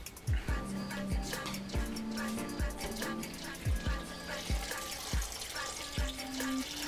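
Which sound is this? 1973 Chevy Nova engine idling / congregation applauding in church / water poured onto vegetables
water poured onto vegetables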